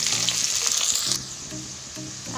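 Onions sizzle in hot oil, a loud hiss at first that settles into a softer crackle, close by and with no voices.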